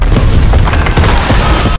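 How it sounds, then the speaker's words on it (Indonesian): A loud, sustained explosion rumbles through a scene from the Avatar film, dense and booming from start to finish with crackling bursts layered over a deep low roar. "tiba-tiba saja ada suara ledakan"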